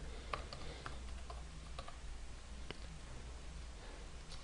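Someone types on a computer keyboard, producing sparse, light key clicks spread unevenly over a low, steady background hum, with no talking.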